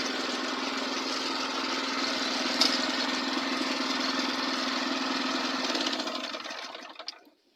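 A mini tractor's small engine runs steadily in first gear, moving very slowly, at a low, even drone with a faint rattle, then cuts out near the end.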